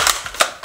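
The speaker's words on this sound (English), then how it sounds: "It is time to shoot down Wyatt's character. Oh, crap, man, I missed!" Toy gun shots from a pretend shootout between siblings at home: three sharp cap-gun-like cracks spaced across a short moment, close and fairly loud, with no talking.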